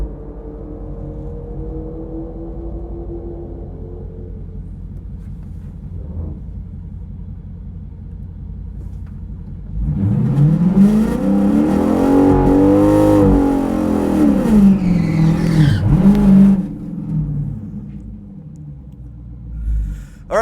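A drag racing car engine idles with a low rumble, then revs hard and loud for several seconds during a burnout before dropping back to a steady idle, at a drag strip event.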